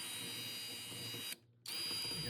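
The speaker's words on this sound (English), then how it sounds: "I'm just going to tighten these down with a cordless drill." A cordless drill drives screws on a Kwikset Polo satin nickel interior door knob, a steady whirring motor run broken by a brief stop, then the motor starts up again and keeps spinning at close range.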